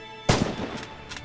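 A single sharp rifle shot fired at downrange targets in the video game Red Orchestra 2, loud and close, with a short echoing tail.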